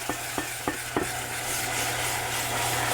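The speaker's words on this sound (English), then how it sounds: "we're just going to stir that constantly here for a moment." Beer is stirred into a flour roux in a hot pan with a steady sizzle, and a few spoon scrapes come first before the sizzle settles into a continuous close hiss.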